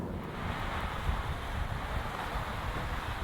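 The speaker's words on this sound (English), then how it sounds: "wind noise at cruising speed is pretty pronounced" Steady broadband wind rush inside a 2016 Subaru Impreza at cruising speed, a constant even hiss and low road rumble with no talking.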